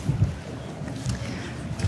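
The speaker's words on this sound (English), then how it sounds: "Very windy day." Strong wind gusts buffet the microphone on a very windy day at the Royal Victoria docks in London, a low rumbling roar that swells and eases in uneven pulses.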